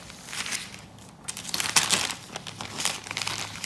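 A large plastic sheet is cut in half for a stained glass window craft, giving close crinkling and crumpling bursts that swell and fade irregularly, louder in the middle, with no speech.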